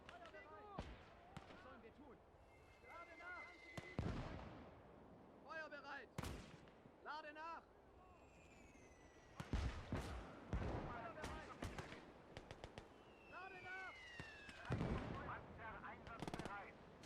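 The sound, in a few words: artillery fire in a WW2 strategy video game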